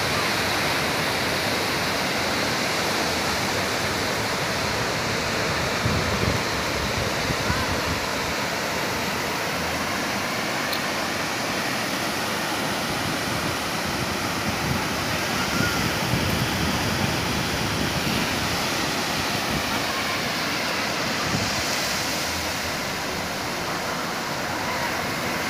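Steady, broadband surf at Pontal do Pero beach in Cabo Frio, Brazil, rolls on continuously for the whole stretch, with waves washing and churning at an even, moderately loud level and no speech over it.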